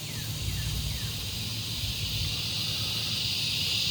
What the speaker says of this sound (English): crickets and birds.